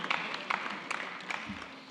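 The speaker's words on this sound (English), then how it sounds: "Please, another round of applause for that panel and that wonderful session." Applause for a panel at a Nigerian diaspora economic conference, a moderate crowd clapping steadily with a few sharper individual claps standing out, somewhat distant in a large room.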